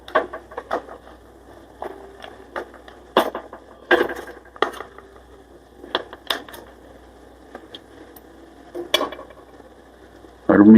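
A spoon stirs mutton nalli fry with curry leaves and coriander in a metal pan, giving close, irregular clinks and scrapes against the pan with quiet gaps between strikes.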